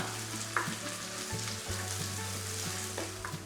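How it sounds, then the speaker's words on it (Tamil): Onions with green chili and curry leaves sizzle steadily in a hot pan with a soft continuous crackle and a few faint stirring scrapes, no voices. "வெங்காயம் நல்லா வதங்கட்டும்"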